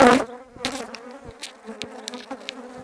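Honeybees from a weak colony buzzing around hives at an apiary, a close, continuous insect drone with a few louder passes as bees fly near.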